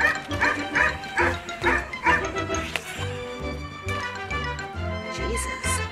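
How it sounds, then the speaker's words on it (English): A dog gives a run of rhythmic barks and yips, fairly close, over a musical background; the barking continues in short bursts throughout. "It's a dog."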